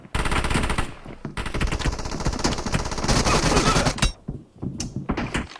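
A UMP submachine gun fires in PUBG Mobile in rapid, loud bursts of close automatic shots, with brief gaps between strings of fire and a few scattered single shots at the end.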